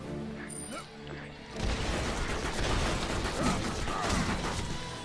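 A massive crank mechanism turns in the game Pirates, starting with a loud grinding rumble and continuing as a dense churning clatter of mechanical noise, loud and close.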